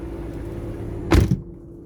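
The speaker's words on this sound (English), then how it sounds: "we're gonna do driver's drop down, window" A car's driver-side power window lowers with a short motor whir and a thump as it finishes, heard up close over a low idle hum inside a quiet cabin.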